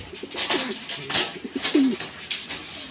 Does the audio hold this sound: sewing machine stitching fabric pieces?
no